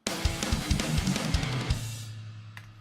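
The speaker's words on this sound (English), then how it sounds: "We needed to add a kick and a crash." Death/thrash metal drum part with a kick drum and a crash cymbal: a run of punchy, evenly spaced kick hits under a bright crash wash, ending with the cymbal ringing out.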